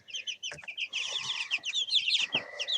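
Young chicks cluck and peep in quick, overlapping bursts at close range, with a few soft thumps and scuffs mixed among the chatter.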